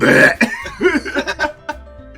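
A loud, drawn-out burp close up, a croaky voiced belch rising and falling for a couple of seconds, from the video game Doki Doki Literature Club Plus.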